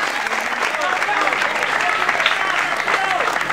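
Continuous crowd clapping fills a rap battle show, a steady, fairly close ovation with cheering voices mixed in.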